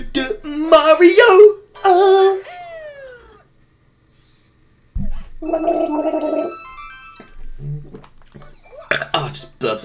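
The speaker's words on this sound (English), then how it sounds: "Oh, I just burped and drinking apple juice." A burp while drinking apple juice: a short, croaky, gurgling voiced eruption near the start, followed by further scattered throaty vocal sounds and gaps of near silence.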